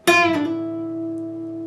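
A single bright electric guitar note from a solo lick rings out loud and close, with a quick bend or pull-off just after the attack, then sustains steadily until the end.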